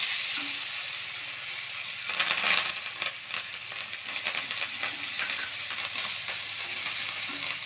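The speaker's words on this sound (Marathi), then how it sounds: "आता कढीपत्ता टाकून घेऊया." Curry leaves and ginger-garlic paste hit hot oil with cumin and mustard seeds in a pan, giving a close crackling sizzle with a sharper burst partway through and light stirring scrapes after it, with no voice.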